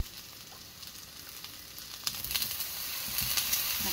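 Tomato, onion and garlic sauté in a hot pan, a steady soft sizzle that grows louder and busier partway through, with no voices over it.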